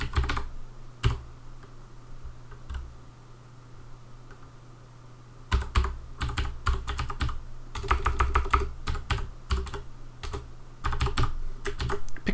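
Rapid clicking keystrokes on a computer keyboard, close and crisp, come in bursts with quiet pauses between them over a steady low electrical hum.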